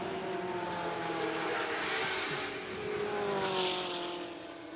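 A Ford GT40 race car driven by Kenny Brack through Fordwater at Goodwood Revival, a loud sustained engine roar that swells and fades slightly as it passes at speed.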